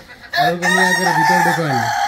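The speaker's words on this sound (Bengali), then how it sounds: "এই জায়গায় প্রায় আমি মোরগ মুরগির ডাক শুনতে পাই" A rooster on a poultry farm gives one loud, close crow, rising then holding a long drawn-out call.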